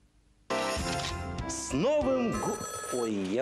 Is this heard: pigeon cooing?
no